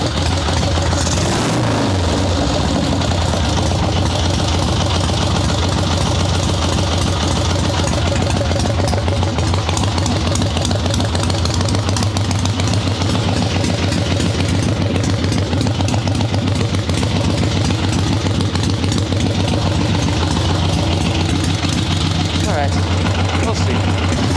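A swap meet chopper motorcycle fitted with a Mikuni VM38 carburetor idles loudly and steadily nearby, a thumping engine note running without a break throughout.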